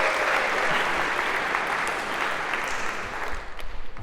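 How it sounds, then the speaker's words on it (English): Audience applause in a Harvard CS50 computer science lecture hall as a student volunteer comes up on stage, dense and steady clapping throughout, thinning slightly at the end. "A round of applause"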